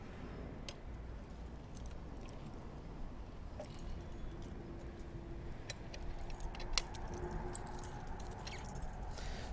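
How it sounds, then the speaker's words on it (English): A metal D-lock is fitted through a bicycle's back wheel and around the rack, giving faint jangling and light metallic clinks over low background rumble. "the best way for us to secure this bike with our D-lock is through the back wheel and around the rack"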